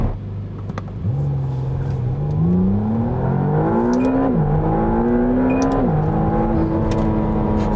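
A McLaren sports car's high-revving V6 accelerates hard from idle, its loud, close engine note climbing through several gears with brief dips at each shift, close to an 8,500 rpm redline.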